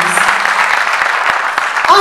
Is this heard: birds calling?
no